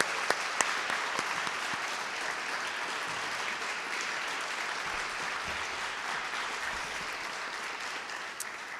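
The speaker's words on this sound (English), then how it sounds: "Could we just have one more round of applause for all the student athletes" A room full of people applauding student athletes at an award ceremony, sustained dense clapping for nearly nine seconds at an even level, with a couple of sharper claps standing out.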